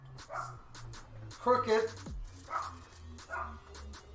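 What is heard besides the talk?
dog barking in the background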